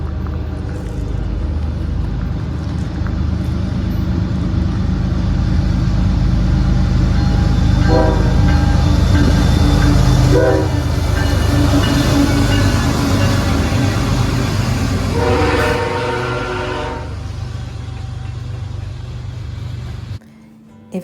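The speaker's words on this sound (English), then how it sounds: "a train is actually still coming through." A train rolls through the historic town of Thurmond, West Virginia, with a loud, continuous rumble of wheels and cars. Several horn blasts sound over it midway before the noise cuts off abruptly at the end.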